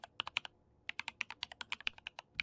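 Quiet, close computer keyboard typing during 3D character work with Seedance 2 AI: irregular clusters of sharp key clicks, a short pause, then a faster run of keystrokes, with no voices.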